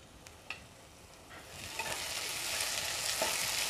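Chopped tomatoes cook in a pan for chicken kheema, starting as a faint sizzle with a few utensil clicks and swelling into a louder, steady close hiss as they are stirred.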